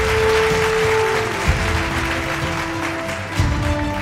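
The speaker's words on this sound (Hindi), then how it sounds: "उनकी कंट्रीब्यूशन के लिए एक बार जोरदार तालियां" Applause from the audience at a Rajasthan business awards conclave. The clapping is moderate and steady, set against a low tonal hum and a couple of soft thumps.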